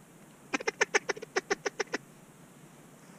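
Mallard ducks in flight during a hunt call out in a quick burst of about a dozen loud, rhythmic quacks, then fall silent over a quiet outdoor background.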